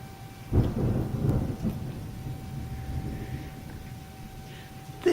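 Deep thunder rumbles on and on over a soft wash of rain during a rare cold-weather thunderstorm with intense lightning, with a sharper crack right at the end.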